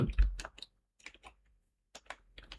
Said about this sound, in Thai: เดี๋ยวไปพิมพ์ก่อน